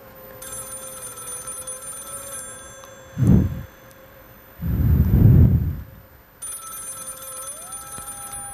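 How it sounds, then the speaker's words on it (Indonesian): A telephone rings steadily and without pause through a tense midnight scene, broken twice by heavy, loud knocks on a door before the ringing carries on alone. "Bunyi ketukan di pintu terdengar semakin keras, ditingkahi suara telepon yang berdering tanpa henti."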